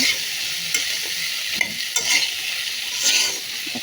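Pre-boiled chickpeas stirred and fried in a pan, a steady close sizzle with intermittent scraping strokes of the spoon, and no voices.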